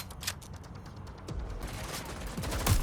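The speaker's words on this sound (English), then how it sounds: "They're raining fire on me!" Bursts of gunfire in Watch Dogs Legion, a mix of sharp cracks and deeper thuds that grows heavier and closer toward the end of the short stretch.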